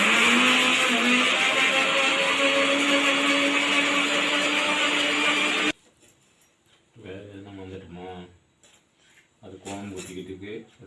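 A mixer grinder grinding batter whirs loudly for about six seconds, then cuts off abruptly, followed by people talking in a quiet room.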